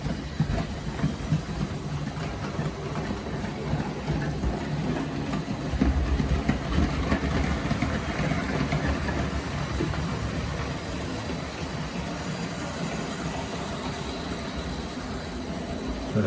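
A Hornby 9F Evening Star model train runs steadily along its track, producing a continuous low rumble and clatter at moderate volume, with no voices.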